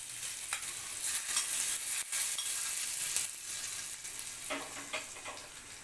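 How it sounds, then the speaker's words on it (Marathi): Sizzling tempering of fried garlic poured over fenugreek, a bright continuous hiss and crackle close by, loudest at first and gradually easing, with a few sharp pops. "त्याला आता आपण ह्या आपल्या भाजीवर टाकून देणार आहोत"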